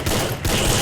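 Rapid gunfire from a shooter video game during a one-tap challenge, loud continuous bursts filling nearly the whole moment with only a brief dip midway, no voices over it.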